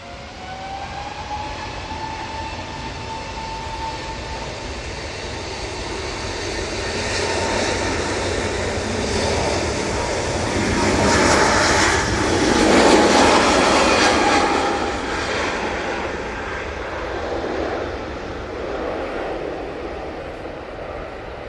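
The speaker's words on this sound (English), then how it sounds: "A GE and A320 Neo now on the roll" Airbus A320neo with GE engines on its takeoff roll at Manchester Airport, a broad steady jet roar that swells toward the middle and eases slightly, with a thin whine running through it.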